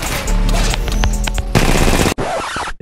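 Pistol gunfire in the video game Apex Legends: loud, rapid bursts of shots in quick succession, close and dense, broken by a brief pause near the end, with no speech.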